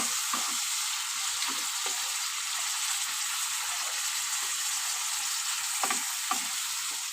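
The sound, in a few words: frying with turmeric and salt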